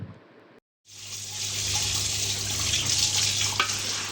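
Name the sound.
rinsing a new clay pot with rice flour and water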